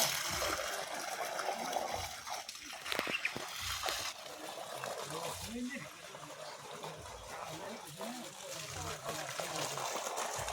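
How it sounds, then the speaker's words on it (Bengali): Water from a submersible pump gushes and splashes steadily into dug pits at a cow shed, a continuous rushing flow with a voice talking over it. "এই দেখুন সাবমার্সেলের ভিতরে এই দেখুন জল এসে গেছে"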